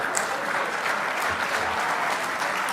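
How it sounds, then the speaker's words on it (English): Crowd applause for the junior champions, first through third, at the IFMAR awards, a loud, continuous roar of many hands clapping close by. "big round of applause for your junior champs"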